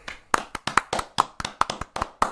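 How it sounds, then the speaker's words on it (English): Sharp hand claps ring out close and loud, about a dozen crisp strikes at an irregular, quick rhythm, with no voices. "big clap for Erin."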